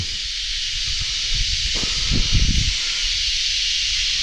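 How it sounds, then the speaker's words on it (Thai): Steady wind blows with a constant, loud hiss, and a few low gusty rumbles swell briefly partway through. "ลมมันพัดเนี้ย ทำให้ มันมีเสียง"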